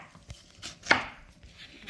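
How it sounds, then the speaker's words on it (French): A single sharp knife chop through peppers on a board, with a faint tap earlier and quiet kitchen background. "nakatakata hizi hoho. Je découpe en morceaux."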